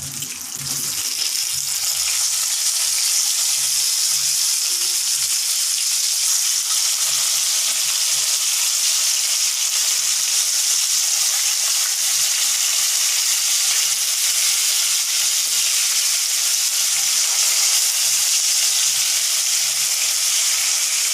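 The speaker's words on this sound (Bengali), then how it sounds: "আর এই যে মাছ ভাজিটা হচ্ছে" Fish fries in a hot pan with a loud, steady hiss and crackle that runs unbroken throughout, close up and with no talking.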